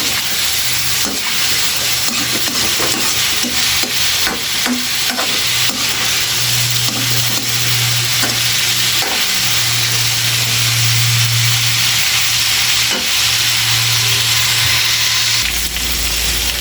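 Dinuguan being sautéed in a pan with bay leaf, a continuous loud sizzle and frying hiss, with repeated scraping and stirring strokes from a utensil close up, no voices.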